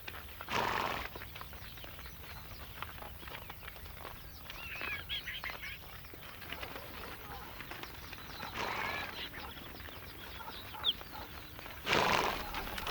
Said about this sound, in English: As the herders move their horses to and from water each day